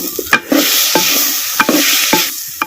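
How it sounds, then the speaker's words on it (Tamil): Eggplant and potato pieces stirred in hot oil for a Chettinad side dish, a steady sizzle broken by sharp, close spoon-against-pan scrapes and clinks at irregular intervals. "சேர்த்த கத்திரிக்காயும் உருளைக்கிழங்கையும் அப்படியே எண்ணெயில் சுருள அப்படியே கிண்டி விட்டு"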